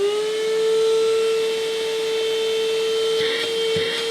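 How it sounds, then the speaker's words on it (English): A TUSA cordless car and home vacuum cleaner with a 6000mAh rechargeable battery runs with a steady high-pitched motor whine and airy hiss, close by, with a couple of faint knocks near the end. "So as you just saw, the vacuum cleaner started out."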